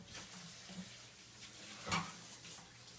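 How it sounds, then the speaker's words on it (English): Running tap water splashing as hands are washed under a faucet, a faint, steady trickle with a brief louder splash near the middle. "Excuse me while I wash my hands."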